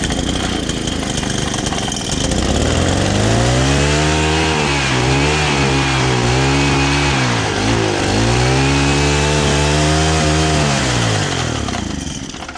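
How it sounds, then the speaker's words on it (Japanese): A small engine is started with the choke pulled and the throttle wide open. It catches and runs loudly up close, its pitch rising and wavering as it revs for several seconds. "チョークをまず引いて、それでアクセルですね、アクセル全開にしてこうやってやりますと、"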